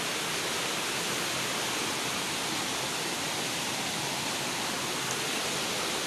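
Curug Sawer waterfall in Bogor, West Java, roars as a dense, constant broadband rush of falling water, loud and unbroken throughout with no voices.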